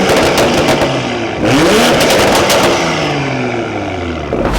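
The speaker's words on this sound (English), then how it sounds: "Believe it or not, that is actually a completely stock burble tune." A BMW M340i with an AWE Touring non-resonated exhaust and stock burble tune revs hard, roaring up and falling away twice with loud crackling pops and burbles on the overrun, close and unaccompanied.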